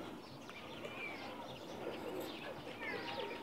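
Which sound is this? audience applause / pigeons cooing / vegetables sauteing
pigeons cooing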